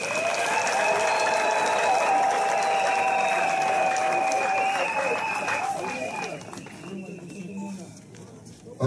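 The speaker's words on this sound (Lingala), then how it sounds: "Veuillez applaudir pour vous-même." Audience applause fills a political party event launching new UDPS membership cards, a dense, sustained clapping that holds loud for several seconds, then thins and fades toward the end, with voices mixed in.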